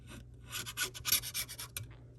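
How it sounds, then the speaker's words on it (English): Old adhesive being scraped out of an iPhone 7 frame during a screen replacement: a quick series of close, dry scratching strokes in an uneven rhythm, quiet and alone. "So I'm gonna clean all that gunk out of there."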